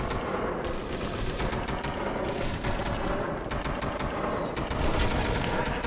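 Gunfire in the PS2 shooter 25 to Life, a dense, continuous rattle of rapid shots and bursts, loud and close, carrying on without a break.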